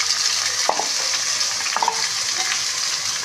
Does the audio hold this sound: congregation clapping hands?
no